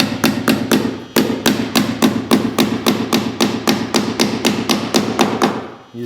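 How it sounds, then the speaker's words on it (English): Roofing nails are hammered into step flashing on an asphalt shingle roof: a fast, steady run of about twenty sharp, close hammer blows, each ringing briefly before the next strike. "I'm gonna try to nail as high as possible on here"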